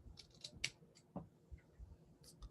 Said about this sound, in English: So I'm just going to cut a couple little strips here.